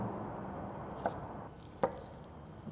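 A knife slicing Brussels sprouts thinly on a cutting board for a sesame slaw, giving two quiet, separate chops against a soft background.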